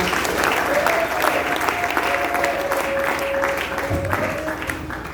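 Church congregation at a Sunday service applauding together, a dense, loud, continuous clapping that fills the room, with a sustained sung or held tone running faintly under it before fading slightly at the end.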